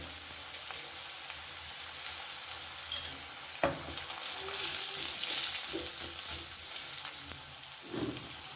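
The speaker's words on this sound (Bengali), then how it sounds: "গ্যাসের ফ্লেমটাকে হাইতে রেখে বেগুনগুলোও ভেজে নেব" Brinjal pieces fry in oil over a high gas flame, giving a steady, close sizzle throughout with occasional stirring clinks and a sharp metallic tap partway in.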